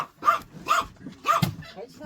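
A dog barks three times at a steady pace, loud and close indoors, with a person's voice mixed in between the barks.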